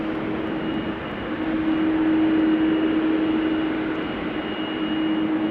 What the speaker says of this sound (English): Just one engine running still.